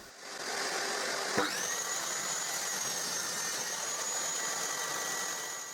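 A power saw with a saw disc cuts a 10 cm wide wood piece, starting with a sharp thump and then holding a steady high whine over broadband rushing noise, moderately loud and close, fading at the end without speech.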